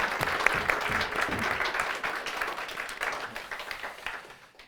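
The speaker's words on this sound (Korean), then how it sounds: "환영의 박수를 치겠습니다" A church congregation gives a welcoming round of applause during a Sunday morning worship service, many hands clapping in a full, steady burst that gradually fades out at the end.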